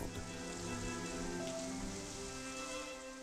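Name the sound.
rain falling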